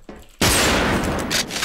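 A sudden loud burst of gunfire in the online shooter Wolfteam, cutting in sharply after near silence and rattling on densely for over a second.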